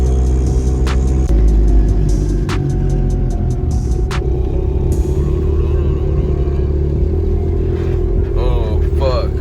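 Turbocharged Honda Civic running 20 lbs of boost, about 300 horsepower, pulling hard on a highway: a loud, steady engine and road roar heard from inside the car, with a few sharp transient pops near the start.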